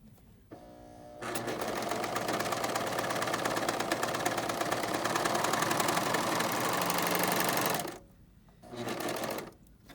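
Serger sewing machine stitching a seam runs steadily for about seven seconds with a fast mechanical whir, stops, then gives a short second burst near the end; no talking.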